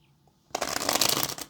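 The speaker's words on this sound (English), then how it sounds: "Let's get one more shuffle." A deck of tarot cards being shuffled up close, a loud dense riffle of card flutter lasting about a second after a brief quiet start, with no talking.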